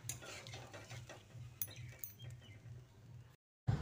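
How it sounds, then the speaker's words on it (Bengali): Spice paste sautéed with a splash of water in a pan, stirred with a metal utensil that gives soft, quick clinks and scrapes over a quiet simmer, faint and close, cutting off abruptly near the end. "দিয়ে মশলাটাকে ভালো করে কষিয়ে নিচ্ছি"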